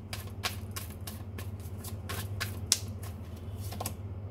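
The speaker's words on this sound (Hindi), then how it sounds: "Let me take one more card for clarification." Tarot cards are shuffled and drawn, giving a run of soft, quick papery flicks and slaps at close range over a steady low hum, with one sharper snap partway through and no talking.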